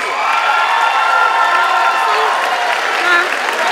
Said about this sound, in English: Can you please give them a loud round of applause, please?